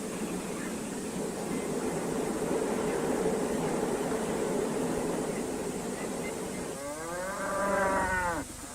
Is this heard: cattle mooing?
yes